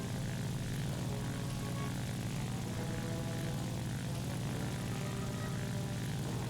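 A Japanese J2M4 Kai propeller fighter in War Thunder drones steadily and loudly, a continuous low engine hum with a broad airy roar above it, unbroken for the whole stretch.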